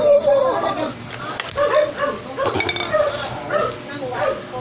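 A dog barks and yips repeatedly in short bursts, close by, with people talking over it.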